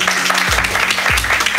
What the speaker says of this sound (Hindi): तालियां हो जाएं यार एक बार